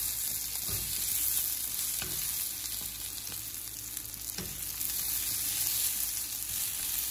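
Beans tomato curry frying in a pan while being stirred, a steady broadband sizzle with a few spoon scrapes against the pan, close and continuous with no talking.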